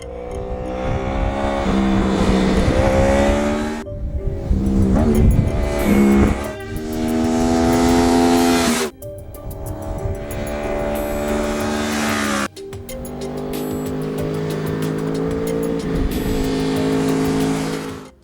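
A high-revving 2012 Yamaha R1 sport motorcycle with GYTR racing exhaust pipes screams past through several gear changes, its exhaust howling loud and sharp with brief cuts between shifts.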